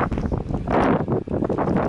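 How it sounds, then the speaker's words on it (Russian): Strong wind buffets the microphone in loud, gusting rumbles, rising and falling throughout without any clear voice, outdoors along bike lanes in Brookings, South Dakota. "Сильный ветер, можно ничего не услышать."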